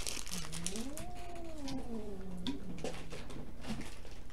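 A cat meows in a long, drawn-out wail that rises and falls, close and fairly quiet over a steady low hum, with a second shorter meow near the end.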